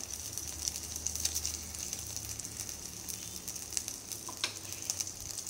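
Chopped green chillies and onion sizzle steadily in a hot pan for a Kuttanadan-style karimeen (pearl spot fish) mappas, a close, continuous crackling hiss with a few sharper pops.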